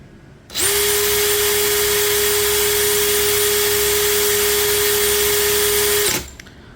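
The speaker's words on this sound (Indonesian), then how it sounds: "Sekarang DeWalt. Kecepatan nomor 2, modenya mode drilling ya." A DeWalt DCD796 cordless drill on speed setting 2 in drilling mode spins up, runs as a steady, loud, high motor whine for about five and a half seconds, then stops.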